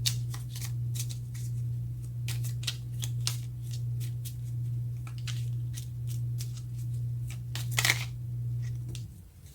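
A deck of tarot cards is shuffled by hand close by, a rapid series of crisp riffling flicks and slaps in uneven bursts over a low steady hum.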